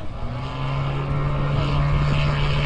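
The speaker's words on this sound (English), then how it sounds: "out goes the Miles Magister in its brilliant yellow colour, half scale, again 300cc engine" Half-scale yellow radio-controlled Miles Magister trainer with a 300cc engine flying at an RC air show, giving a loud, steady propeller drone with a strong sustained hum that grows slightly louder as it passes.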